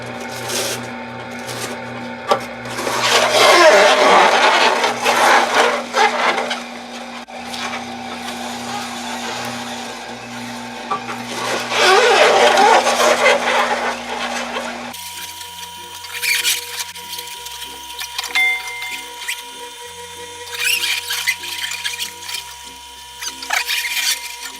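A masticating juicer grinds and squeezes kale with a steady motorized whirring and squeaky rubbing, loud and close, running continuously with no talk over it.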